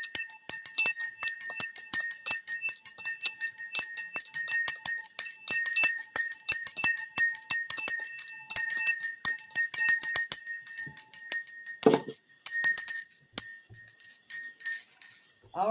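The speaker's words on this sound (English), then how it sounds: "Alex Collier is going to start ringing the bell on his shows." A small bell rings repeatedly through a live show, bright clustered chimes and jingles tumbling one after another with a brief low voice near the end.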